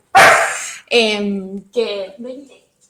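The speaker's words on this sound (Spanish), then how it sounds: "Tengo acá una perra salvaje que quiere salir" A female dog barks and whines indoors, eager to be let outside, with a loud opening yelp and then two drawn-out whimpering barks trailing off, close to the microphone.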